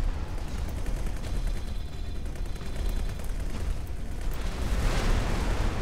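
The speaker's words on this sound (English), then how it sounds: "Explosion imminent." Explosions and gunfire-like blasts in the space video game X4 Foundations, a continuous crackling barrage of booms at moderate level with a louder surge near the end.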